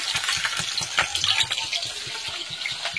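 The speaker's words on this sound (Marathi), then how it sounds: "फक्त 2 मिनिटं छान असं परतून घ्यायचे, मस्त म्हणजे तळून घ्यायचे व्यवस्थित" Cumin, crushed garlic and green chillies fry in hot oil with a crackling, splashy sizzle. Short stirring scrapes break through it in an uneven rhythm, close and moderately loud.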